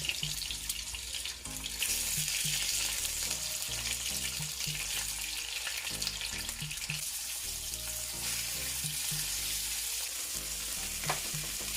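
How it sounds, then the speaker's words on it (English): Fish fries in olive oil with garlic and pepper for a Jamaican fish loaf, giving a steady close sizzle and crackle throughout, with low tonal sounds humming faintly beneath it. "now we're gonna fry them up a little bit"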